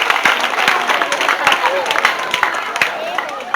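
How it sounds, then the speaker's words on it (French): Applause at a school canteen launch as students enter, sharp scattered claps from a crowd mixed with chatter and voices, loud and close, continuing throughout. "je vous demande d'applaudir ces élèves"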